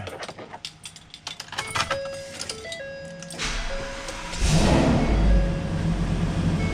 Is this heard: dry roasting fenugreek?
no